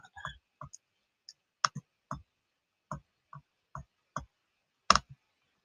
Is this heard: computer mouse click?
yes